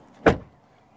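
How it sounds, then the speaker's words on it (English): A Volkswagen Tiguan R-Line car door swings shut with a single solid, close thud that fades quickly into quiet. "Door closing sound. It is very nice."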